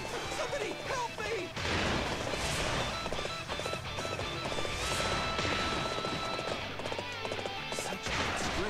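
A horse gallops in the Dynasty Warriors 8 video game, with rapid clip-clop hoofbeats under a busy mix of battle crashes, clashing effects and game voices.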